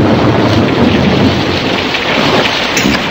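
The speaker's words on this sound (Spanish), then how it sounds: "El trueno retumbaba." A loud, continuous thunderstorm with heavy rain pouring down and deep rolling thunder rumbling beneath it, dense and close with no voices.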